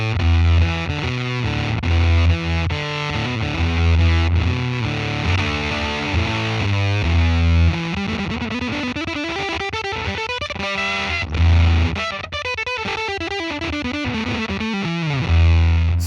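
An electric guitar through a Red Witch Apothecary fuzz pedal with a gating bias control plays loud, sputtering gated fuzz riffs and sliding runs, alone and continuous.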